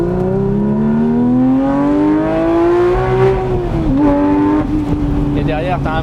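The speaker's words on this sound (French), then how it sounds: "Et derrière, t'as un bruit de 911 RSR quoi." A Porsche 991 Speedster engine pulls through the revs while driving, a loud close rising wail that climbs in pitch then drops at a shift, with someone talking over it.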